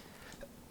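A single short, loud cough bursts out abruptly after near silence.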